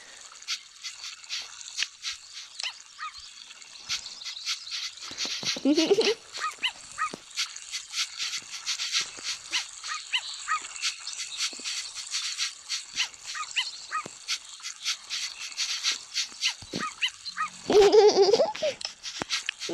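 Several dogs in a park whimper and yelp in thin, high, rapid bursts, with a couple of louder, fuller barks breaking through near the start and end of a long stretch of whining.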